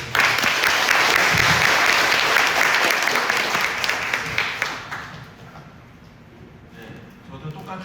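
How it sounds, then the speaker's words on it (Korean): A seated audience at a residents' briefing session breaks into loud sustained applause welcoming the committee chairman, then the clapping thins out and fades to scattered claps. "우리 고생하시는 통합위원장님 박수로 맞이하겠습니다"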